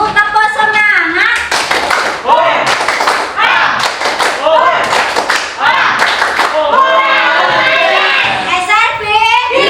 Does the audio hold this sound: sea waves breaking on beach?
no